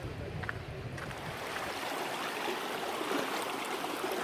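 Water runs steadily along the Tropic Ditch, a narrow irrigation canal near Bryce Canyon, a continuous soft rushing and gurgling flow heard close by and fairly quiet, with no other sounds over it.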